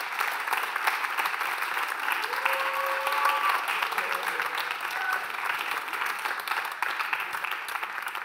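An audience at a staged mock sports trial applauds the defense team with steady, dense clapping that fills the room, faint voices and a whistle-like tone briefly rising above it.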